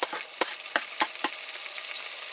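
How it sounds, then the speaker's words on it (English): Bacon frying in a pan at medium-high heat, a steady close sizzle broken by a few sharp pops and crackles of spitting fat, with no talking. "after your pan has heated to a medium-high heat, so it's a good heat for frying your bacon up"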